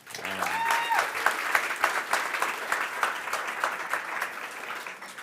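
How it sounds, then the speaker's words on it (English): An audience at a governance presentation breaks into a round of applause, dense clapping swelling quickly and holding steady for several seconds, with a brief voice at the very start. "Let's give a quick round of applause for Henrik and everybody who set this up."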